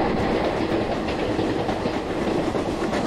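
Express train in the Open Rails simulator running through Galan station on the Pune–Bhusaval route, a steady loud rumble with rhythmic wheel clatter, close and continuous.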